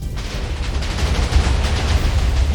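In Minecraft, a cluster of explosions goes off one after another, merging into a loud, continuous low rumbling boom that lasts the whole moment.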